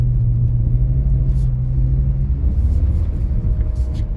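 A BMW E46 rear-wheel-drive car drifting in snow, its engine a loud, steady, close rumble held at an even pitch throughout, with faint hissing bursts above.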